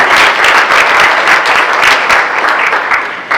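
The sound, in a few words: audience round of applause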